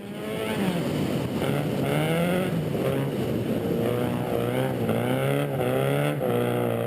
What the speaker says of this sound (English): what you're seeing is ice racing